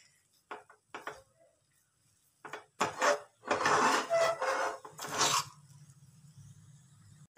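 A spoon stirs a sweet motichoor-style ladoo mixture of sev and sugar syrup in a metal pan, making close, irregular clinks and scrapes that grow into a busier run of scraping before settling into a quiet hum.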